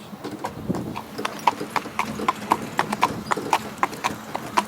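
A horse's hooves clip-clop on hard ground in a steady, evenly spaced walking rhythm, fairly close and clear, with faint background noise and no talk.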